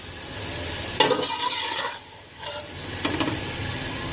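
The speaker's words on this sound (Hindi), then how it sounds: "कीमा लेना है आपको, इसमें ऐड कर दीजिए और इसको अच्छी तरह से भून लीजिए" Minced mutton keema stirred and frying in a pan, a close, steady sizzle with scraping stir strokes at about one and three seconds and a brief lull between.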